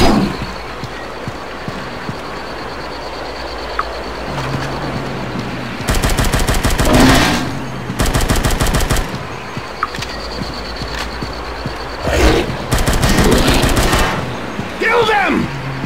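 Rapid automatic gunfire in the Dead Trigger 2 zombie shooter game, bursts of loud machine-gun fire at intervals over a steady game soundscape, with a voice talking in places.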